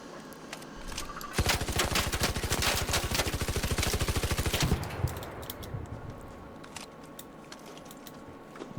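Sustained automatic gunfire in a video game: a long, rapid, evenly spaced stream of loud shots runs for several seconds and then cuts off, leaving quieter scattered noise behind.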